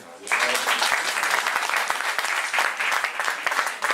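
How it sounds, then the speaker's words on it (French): A church congregation applauds its worship team after the morning service. Full, energetic clapping starts abruptly and keeps a loud, sustained roar of many hands to the end. "Je voudrais qu'on puisse les applaudir."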